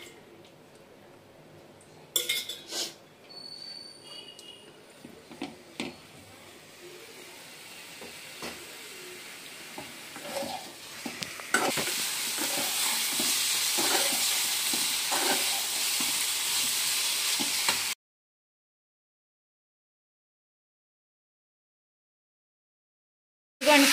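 Bottle gourd pieces fry in oil in a pan. A few sharp clicks and knocks give way to a soft sizzle that swells into a loud, steady hiss, then cuts off abruptly.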